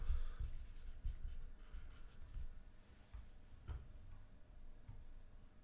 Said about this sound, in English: Let me write these as we go.